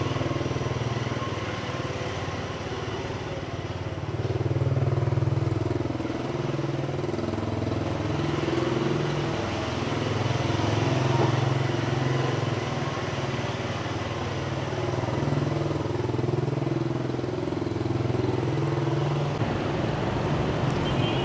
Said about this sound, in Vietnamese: chiếc Diamond Pro này thì cực kỳ êm ru, không hề có tiếng động cơ trong quá trình chúng ta di chuyển